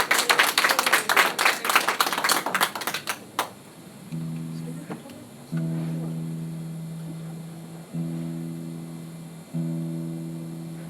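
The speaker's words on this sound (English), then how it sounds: "Everyone, applause for my sweetie, Terry." Brief burst of applause during a live music show, dense clapping for about three seconds, then it stops and a steady tonal hum with a soft voice follows.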